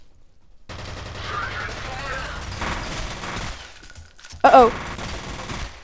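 Dense automatic gunfire from the shooter game F.E.A.R. rattles on for several seconds, loud and close, with a sharp metallic clink near the end and someone speaking briefly.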